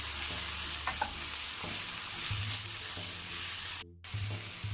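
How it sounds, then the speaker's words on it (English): Garlic, spring onions and a bay leaf stirred in a hot pan, a soft steady sizzle with scraping spoon strokes across the metal, close by with no talk. "add your garlic, the spring onions, and your bay leaf"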